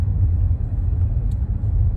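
Small engine fitted with a new carburetor idling too high, a loud, close, steady low rumble with no change in pace over two seconds.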